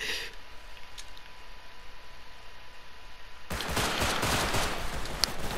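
Rapid automatic AK rifle fire in the survival game Rust erupts after a stretch of quiet ambience: a loud, dense, continuous burst that runs to the end.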